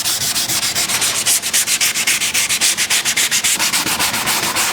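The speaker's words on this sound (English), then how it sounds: "When you're sanding, make sure you sand over these edges all around your headlight" A car headlight lens being sanded by hand around its edges during restoration, a loud, steady rapid back-and-forth rasping in even strokes, close up and continuous with no talking.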